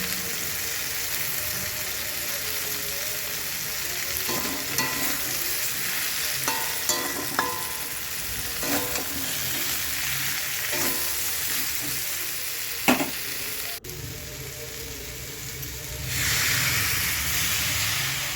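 Mixed vegetables for shukto fry in a pan with spices, a continuous sizzle punctuated by repeated spatula scrapes and clinks, the hiss swelling louder toward the end.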